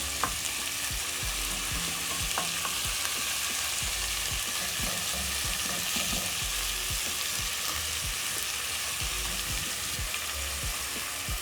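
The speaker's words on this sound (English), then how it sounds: "Then I'm going to let my meat sear." Beef sears in a single layer in a pot for a one-pot beef and rice dish, giving a steady, close sizzle and frying hiss throughout with occasional stirring clicks and no voices.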